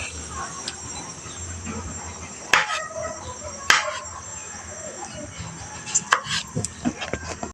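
A knife chops mushrooms on a board for gravy, giving a few sharp isolated knocks and then a quicker run of cuts, fairly faint against a quiet room hiss with no talk.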